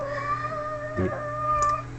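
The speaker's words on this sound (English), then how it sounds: "I apologize if there's some noise from cats." A pet cat gives a short meow indoors, a brief close cry over a steady background hum, alone without talking.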